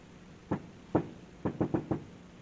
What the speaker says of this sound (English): Splat heard the secret knock.